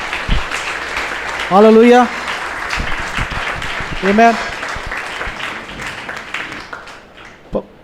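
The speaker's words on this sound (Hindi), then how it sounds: "हम जोरदार ताली बजाएं वचन के लिए।" A church congregation at a gospel service claps, with dense, steady applause throughout and two brief sung or shouted vocal swells rising over it.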